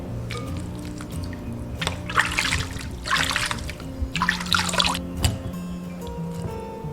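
Blanched beef brisket is rinsed under running water in a kitchen, with intermittent splashing bursts over a low steady background hum.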